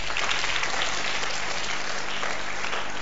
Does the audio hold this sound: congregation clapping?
yes